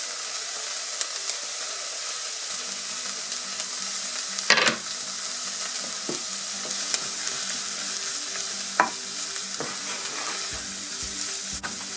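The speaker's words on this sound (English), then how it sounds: "So my onion has been cooking for about a minute or two. So I have my carrot, which I'm going to add in" Onion and carrot frying in a pan for cottage pie, a continuous hissing sizzle that thickens as vegetables go in, with occasional utensil scrapes and taps.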